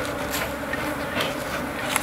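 Honey bees buzz around a beehive full of honey with a honey super set on top, a dense, steady hum with no one speaking.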